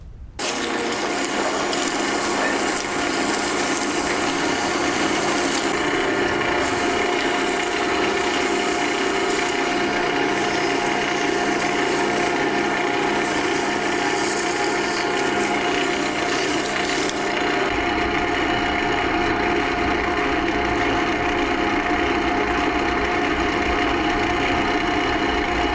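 Acrylic wine stopper being sanded on a lathe, starting at about 100 grit, heard as a steady, loud, continuous whirring rasp that runs unbroken with the spinning workpiece and no speech.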